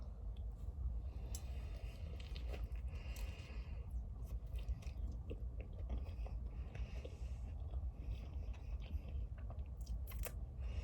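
Food dipped in sour cream is bitten and chewed up close, with repeated crunchy bites and moist mastication throughout, no talking.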